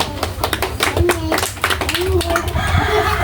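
Applause from an audience at a tuberculosis health-promotion session put on by nursing students, a scatter of hand claps running for a few seconds with faint voices and some talk mixed in.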